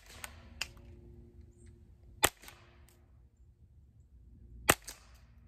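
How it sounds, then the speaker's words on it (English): Suppressed Ruger 10/22 rifle with a Volquartsen bolt firing outdoors: a few short, sharp cracks, muted rather than booming, with a couple of fainter clicks between them and quiet background. "go ahead and fire off one or two rounds"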